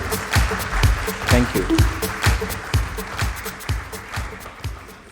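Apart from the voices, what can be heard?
audience applause welcoming a guest on stage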